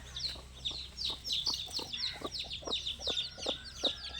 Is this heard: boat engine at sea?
no